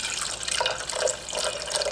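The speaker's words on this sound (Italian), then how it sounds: "andremo a mettere all'interno 200 ml d'acqua" Water poured steadily into a tall container, 200 ml in all, with a bright splashing, trickling rush that swells and eases in a few pulses over about two seconds, close and moderately loud, with no talking.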